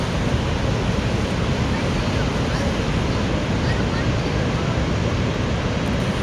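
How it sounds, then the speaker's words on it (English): Rushing water of Niagara Falls at night, a continuous loud broadband roar with no breaks, steady and enveloping. "Fall asleep to the sound of rushing waterfalls."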